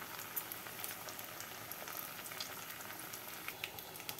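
Fish in a masala coating fries in oil, making a faint, continuous bubbling sizzle with small scattered pops, heard alone at low volume.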